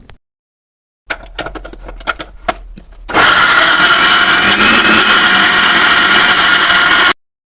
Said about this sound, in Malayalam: ചെറിയുള്ളി, ജീരകവും വെളുത്തുള്ളിയും ചേർത്ത് മിക്സിയിലൊന്ന് അരച്ചെടുക്കാം.